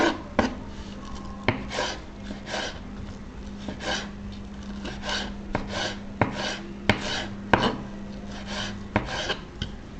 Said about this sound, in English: This knife is so sharp. Just go into the seasoning like that.